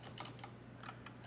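Keystrokes tapped on a computer keyboard while entering an IP address lookup, a quick cluster of close, light clicks over a steady low hum.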